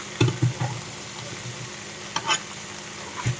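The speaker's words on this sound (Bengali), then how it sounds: "এখন এই কুটিগুলোকে বোনা করব তো তার জন্য কুটিগুলোকে আগে বেজে নিতেছি" Pieces frying in oil in a pan, a soft, continuous sizzle with a few light knocks of stirring, fairly quiet and close.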